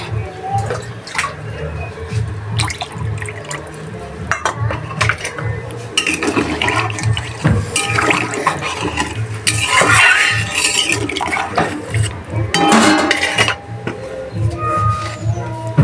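Water pours steadily into a cooking pot of dhoka curry, a continuous splashing fill with clinks of utensils against the pot throughout.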